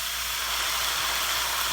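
Soy sauce, mirin and sesame oil hit a hot pan of salmon, bok choy and shiitake, giving off a loud, steady, continuous steam hiss that stays even throughout with no voices.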